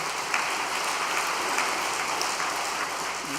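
Church congregation applauding together, a steady dense wash of clapping at even loudness throughout, with no voices over it.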